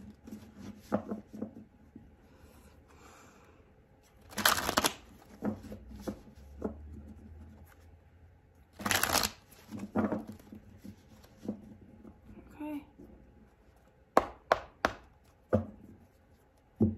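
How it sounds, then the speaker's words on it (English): Tarot card shuffling in bursts: soft riffles and taps with two louder rapid riffles, then sharper slaps and tapping toward the end, close and alone. "3 more shuffles for Sagittarius."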